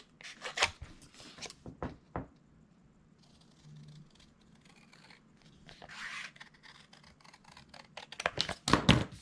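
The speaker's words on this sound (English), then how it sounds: "I'm just going to use my scissors to trim away" Scissors snip and trim a paper craft piece up close, with a few sharp crisp cuts, a quieter stretch of soft rubbing and handling, then another fast cluster of snips at the end, no talking.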